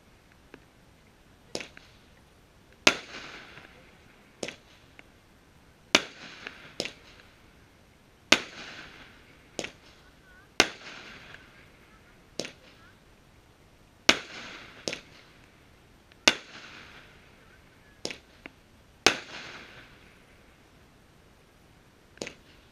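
A 25 mm 'Schwarze Witwe' firework battery rated at ten shots fires at a New Year's Eve pre-show in Küps, giving sharp, fairly distant bangs at irregular intervals of about one to two seconds with faint crackle after some.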